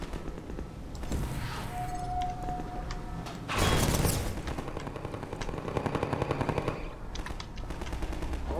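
Enemy gunfire in Half-Life 2 Episode Two comes in distant, moderately quiet rattling bursts, with a sharper run of rapid automatic shots near the end amid mechanical game noise.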